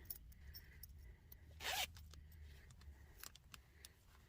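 A zipper on a soft corduroy zip-up bag is pulled in one quick, raspy run, with faint handling rustles and clicks around it in a quiet room.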